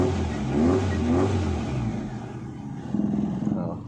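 A 1993 Suzuki Esteem 1.3 engine starts and revs close by, with a rough, low rumble that rises and falls, then a quieter ragged idle.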